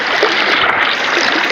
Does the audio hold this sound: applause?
no